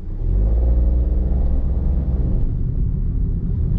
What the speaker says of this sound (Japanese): なので今はエンジンの力だけで加速していきましたけども、それでもやっぱ車が軽いからスッと動きますよね